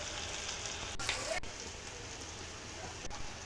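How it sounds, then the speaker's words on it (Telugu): Green chillies, curry leaves and mint fry in hot oil with tomato in a kadai for biryani, giving a steady soft sizzle, fairly faint and even, with a brief louder crackle near the start. "ఇప్పుడు పచ్చిమిర్చి ముక్కలు వేసి, మిగిలిన కరివేపాకు, పుదీనా కూడా వేసేసి మంచిగా ఫ్రై చేసుకోవాలి"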